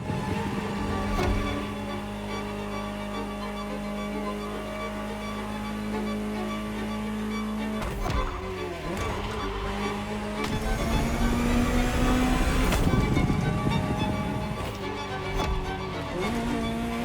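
A Ferrari supercar engine in the racing video game The Crew Motorfest drones steadily throughout, its pitch shifting with gear changes and rising under acceleration, with a faint voice occasionally over it.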